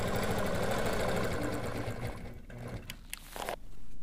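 Sewing machine stitching a feather motif on a quilt border, a steady rapid mechanical whir that runs loud and close, then thins out into short bursts as stitching slows and stops.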